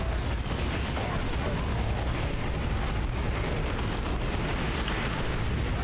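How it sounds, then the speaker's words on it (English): A grenade blast in the Warhammer 40K strategy game Dawn of War 2 Retribution, buried in a dense, steady roar of battle explosions and gunfire that never lets up, with talking over it. "shove a grenade up that can's ass"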